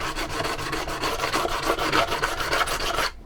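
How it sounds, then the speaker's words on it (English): Sandpaper rasps roughly back and forth over the painted blade of a home-made Bowie knife, a steady run of close, scratchy strokes that stops abruptly near the end. "Sand this all over roughly with some sandpaper"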